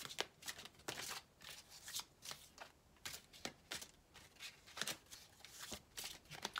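Tarot cards being shuffled for a reading, a steady run of crisp riffling bursts repeating every half second or so, close and fairly quiet with no talking.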